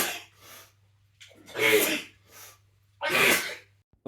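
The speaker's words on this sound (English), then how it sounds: "Ugh, and a million sneezes." Two loud, close sneezes, each preceded by sharp inhaled breaths, separated by a short pause and followed by quieter breathy sounds.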